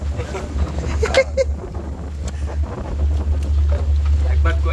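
A Chandpur passenger launch rumbles with a low, steady engine drone while wind buffets the microphone, loud and close, and a voice speaks briefly over it.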